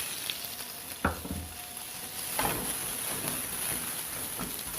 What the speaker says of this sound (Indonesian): Kita namanya mau nyaute. Ini kita punya bahan bawang bombay dan wortel.